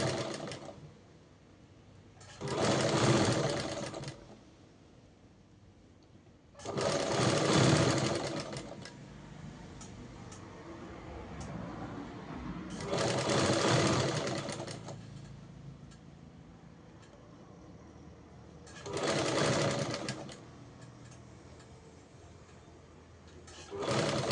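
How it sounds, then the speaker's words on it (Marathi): Sewing machine stitching a narrow folded hem on fabric from an old saree, running in four short bursts of rapid mechanical whirring separated by quiet pauses, close and fairly loud. "अशी बारीक फोल्ड करून टिप मारते अशी मी पूर्ण टिप मारून घेते"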